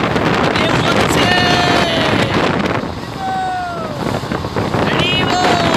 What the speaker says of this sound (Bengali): আমরা একটু হাওরের মাঝখানে আছি, প্রচুর বাতাস, আর একটু একটু ঢেউ হচ্ছে।